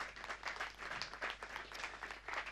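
Audience members at a French audiovisual training program applaud two trainers, a moderate, somewhat quiet round of clapping with uneven pulses of hands throughout and no speech.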